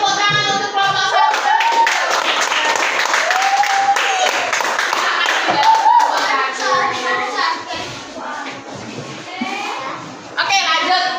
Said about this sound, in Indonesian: Oke, kita kasih tepuk tangan untuk kelompok 1.